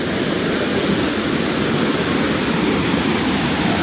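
A restaurant waterfall roars as a loud, dense, continuous rush of falling water, close and steady throughout with no voices.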